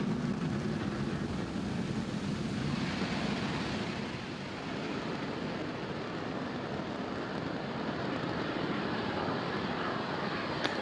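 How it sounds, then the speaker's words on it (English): A Falcon 9 rocket lifting off from Space Launch Complex 40 at Cape Canaveral gives a broad, steady distant roar with a dense rumbling wash that holds evenly throughout, heard on its own without voices. "Falcon 9 has successfully lifted off from Space Launch Complex 40 at Cape Canaveral Space Force Station"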